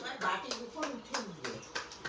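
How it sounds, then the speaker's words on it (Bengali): A child claps hands several times in a home, light quick claps in an uneven rhythm under an adult's soft encouraging talk. "হাত তালিয়ে।"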